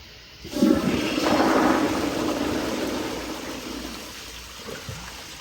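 A Kohler Kingston 1.6 gpf toilet flushes with a sudden loud rushing roar of water that swells, then slowly subsides into a gurgling trickle, heard up close with no one talking.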